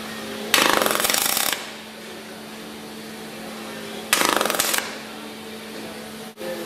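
Tack welds on a car quarter panel, two loud buzzing crackling bursts of about a second each separated by a quiet pause, with a short click near the end.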